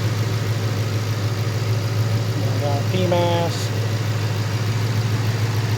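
A supercharged Roush Gen 1 5.0 Coyote Mustang with an 80mm Roush Stage 3 pulley and high mileage idles with a steady, loud low rumble as someone talks briefly over it.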